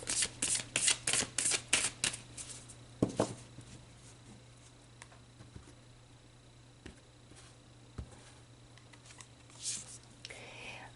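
Oracle cards being shuffled by hand, a rapid run of about ten crisp riffling bursts at the start, then a few isolated slaps and soft card sounds over a low steady hum.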